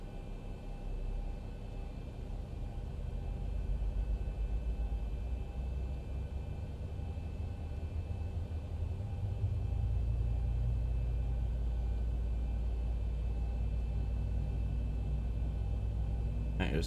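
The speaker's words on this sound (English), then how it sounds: "Alright, let's start another engine number one." An airliner's number one engine spools up in the X-Plane 11 flight simulator at Leeds Bradford Airport, a steady low rumble building gradually and growing louder and fuller partway through.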